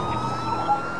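A police car siren in Grand Theft Auto IV multiplayer wails steadily in the background, a continuous electronic tone sitting under a busy, noisy mix.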